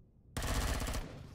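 Video game gunfire in Empyrion Galactic Survival: a short, loud burst of rapid automatic shots lasting about a second, alone after brief quiet.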